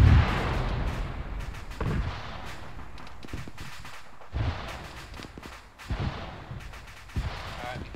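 Bursts of autocannon fire and explosions ring out during a military simulation game operation, heavy irregular booms and thuds at moderate distance with a few sharp cracks spread across the stretch.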